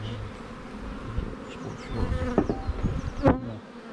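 Honeybees buzz loudly and continuously around an opened hive while a colony is being split. Frame handling makes a few brief knocks and scrapes close by.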